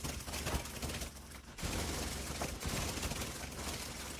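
Dense gunfire in the shooter The Division 2, with sniper shots among continuous rattling fire and a sharp break midway, loud and busy throughout with no voices.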